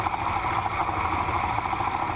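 Engine of a weed mowing machine idling while warming up, a steady mid-pitched drone with a faint rhythmic throb, close and even throughout, no talk.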